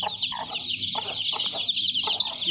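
Village hens clucking nearby in a farmyard, repeated short bursts of clucks in an uneven rhythm over a continuous high chatter from other birds, fairly loud and close, with no talking.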